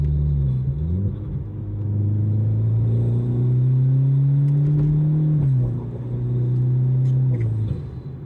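An Alfa Romeo MiTo Quadrifoglio Verde accelerating hard from inside the cabin, the engine note rising steadily through the revs, a short dip at a gear change, then climbing again before easing off, loud and close with no talk.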